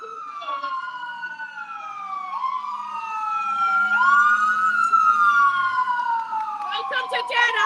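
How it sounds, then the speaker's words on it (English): Wailing emergency sirens rise and fall, growing louder as vehicles pass close by outside a courthouse, with traffic rumble underneath and brief yelping bursts near the end. "Here come the sirens and the trial hasn't even started yet."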